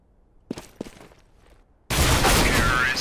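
Gunfire from the video game CS:GO erupts in a sudden, loud, sustained burst after a quieter stretch of brief clicks and knocks.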